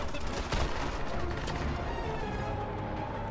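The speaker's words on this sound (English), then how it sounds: "Oh, shotgun time." Shotgun blasts and battle noise in the James Bond shooter 007 Legends: Goldfinger, one heavy shot standing out amid a dense, steady wash of gunfire and action sounds.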